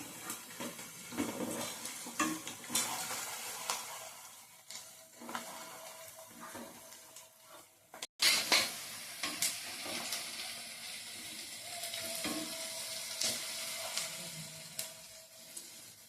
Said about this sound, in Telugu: పసుపు వేసి తిప్పుతున్నాం